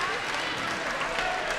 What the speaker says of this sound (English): She'll get an ovation from the crowd as Devin Boland fouls out